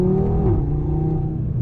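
An MTM-tuned Audi TT RS five-cylinder engine revs loudly and close, a brief rising and falling drone.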